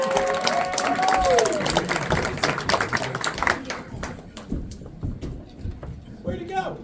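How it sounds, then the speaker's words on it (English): An audience claps and cheers for a performer introduced as playing the Nerdy Gurdy at an odd-show event, a burst of applause that is loud at first, then thins into scattered claps, with a voice talking over it. "So please, everyone, give him a round of applause."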